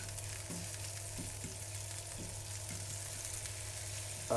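Steady sizzling of pancetta frying in a hot pan, a continuous crackling hiss with no talking.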